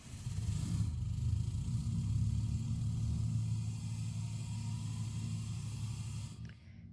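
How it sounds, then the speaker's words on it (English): A blown-up auction truck being built into a sled rig in Farming Simulator 22 runs with a loud, steady low engine rumble and a hissy top, easing slightly before cutting off near the end. "Truck is definitely loud"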